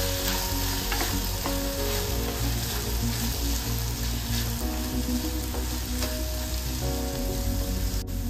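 Tomatoes with tamarind, salt, turmeric and a small piece of ginger fry in a pan for dosa chutney, giving a steady, close, continuous sizzle with faint stirring throughout.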